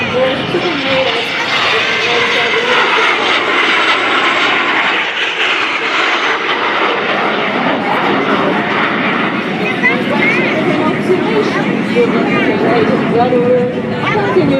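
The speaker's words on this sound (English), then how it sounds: "Cloverloop continues today with the pilot of the Patrouille de France" Patrouille de France jets flying an air show display at NAS Patuxent River send a loud, sustained roar throughout, with crowd chatter and an announcer's voice over it.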